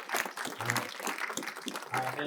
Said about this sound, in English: A round of applause for Uncle.